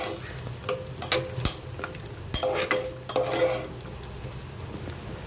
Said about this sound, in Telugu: కిస్మిస్ కూడా ఇప్పుడు వేగిపోయింది అనమాట.